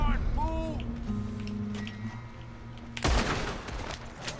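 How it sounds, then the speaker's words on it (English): A single sharp gunshot from a new weapon in Red Dead Online rings out near the end, loud and close with a punchy pop, after a stretch of quieter ambient game sounds, whistles and faint tones. "I like the sound of that shot"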